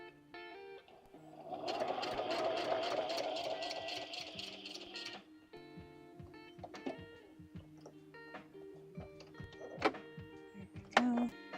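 A sewing machine stitching through a junk journal runs in a steady mechanical whir for a few seconds, then stops, followed by scattered clicks and rattles of handling nearby.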